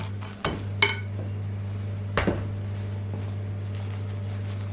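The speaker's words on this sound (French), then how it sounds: "Donc, au début, on est obligé de casser un petit peu les blancs pour pouvoir mélanger la pâte au blanc." Biscuit batter being folded into egg whites with a spatula in a bowl, heard as a few distinct clinks and scrapes over a steady low electrical hum, no talk.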